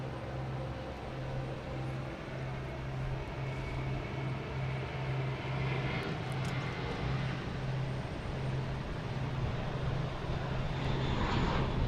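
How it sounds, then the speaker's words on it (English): An Alaska Airlines airliner at Boston Logan airport gives off a steady, broad engine roar at a distance, holding evenly throughout with a low hum beneath and no voices. "So then Alaska Airlines heading to 15."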